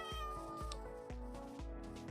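A cat meows repeatedly amid a dense, busy game soundtrack, each call rising and falling in a steady run of roughly four cries over a couple of seconds, fairly close and clear above the background music.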